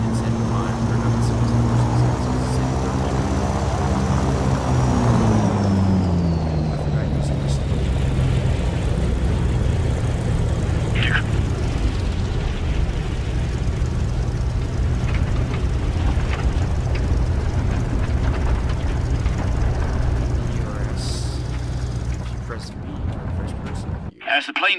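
A propeller airplane engine landing in the video game War Thunder drones loudly and steadily, its pitch sliding lower as the throttle comes down, before cutting out abruptly at the end.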